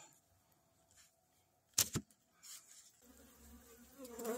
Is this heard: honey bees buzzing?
yes